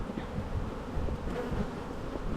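Agitated honeybees buzzing around an opened hive during a walk-away split, a dense close swarm hum with individual bees droning past, steady and unbroken.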